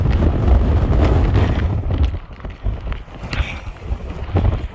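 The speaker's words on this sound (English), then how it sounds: "The gust of wind." A strong wind gust, estimated near 50 mph, buffets the microphone on the Appalachian Trail, with heavy low rumbling bursts that ease and then surge again in uneven waves.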